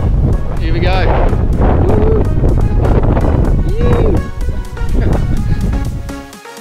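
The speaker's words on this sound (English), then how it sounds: "I have to film this one in the car because it's too windy" Heavy wind in the hot Simpson Desert buffets the microphone in loud, rumbling gusts, with a person speaking underneath, partly drowned out.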